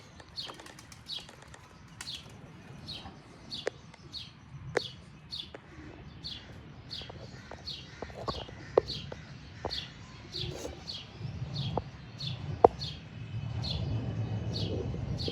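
Pet pigeons flap their wings in repeated short bursts, with soft cooing and occasional sharp taps scattered through, close and fairly quiet against low background rumble, with no voices.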